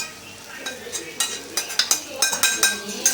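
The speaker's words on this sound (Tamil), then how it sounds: "இதை நல்லா மிக்ஸ் பண்ணி விட்டுக்கலாம்" A utensil stirs ground masala spices, chili and turmeric into onions in a pan for egg idiyappam, making rapid close scraping clinks against the pan over a faint sizzle.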